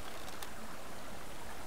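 Waterfalls in the survival video game Subsistence give a steady, broad hiss of falling water that continues without a break, with no voices over it.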